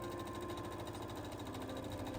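A sewing machine runs continuously while stitching fabric collar pieces for a 1950s dress, giving a quiet, fast, even mechanical whir with a steady rapid pulse throughout.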